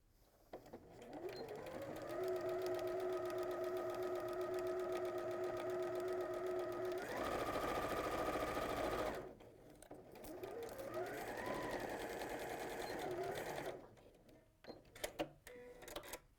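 Sewing machine stitching a quarter-inch seam on an apron, a close whirring run that speeds up, pauses briefly, then runs again before a few clicks at the end.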